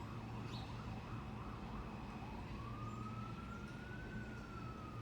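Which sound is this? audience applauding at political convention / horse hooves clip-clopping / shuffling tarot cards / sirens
sirens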